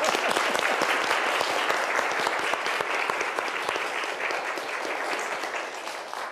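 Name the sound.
audience applause for choir members and children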